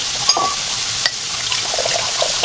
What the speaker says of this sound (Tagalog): Let's add water.